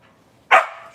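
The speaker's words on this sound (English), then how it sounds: "Stop barking. Stop barking." A single loud, close dog bark rings out abruptly after near silence and decays quickly, with no one speaking.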